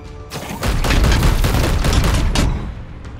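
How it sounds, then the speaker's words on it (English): Gunfire in the Warhammer 40k Chaos Gate Daemonhunters video game, a loud sustained burst of rapid, dense shots and booms lasting a couple of seconds before trailing off, with no talk over it. "Shoot this guy twice."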